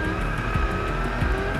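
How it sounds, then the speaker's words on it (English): Classic sports cars race at Silverstone in slippery conditions during the Royal Automobile Club Woodcote and Stirling Moss Trophy, among them a Lister. Engines roar loud and close throughout, with two rising sweeps as cars pass and a squeal of tires. "There was plenty of superb sports car racing throughout the weekend."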